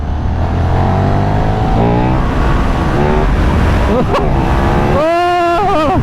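A KTM 1390 Super Duke R sport motorcycle engine revs hard during a wheelie and climbs in pitch through the gears, then drops and surges again, close and roaring with wind noise.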